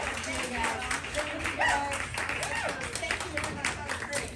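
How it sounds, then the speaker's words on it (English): Audience applause for two contestants on a live talk show, continuous clapping from a crowd that runs for several seconds at a steady level, with faint voices mixed in underneath. "let's give a big round of applause to Lou and Jeff"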